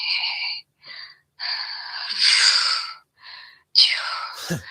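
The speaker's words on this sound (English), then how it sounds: "it's a lot of breathing sounds" Breathy, hissy exhalations and gasps come in several separate bursts with short gaps between them, and a sharp falling sweep sounds near the end.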